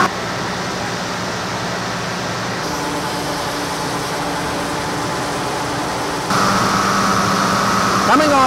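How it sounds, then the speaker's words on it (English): A large paper sheeting machine runs steadily, delivering cut sheets off its bed with a loud, continuous mechanical drone and hum that steps up in intensity partway through. "you can see the sheets actually coming off the bed of this large sheeting machine"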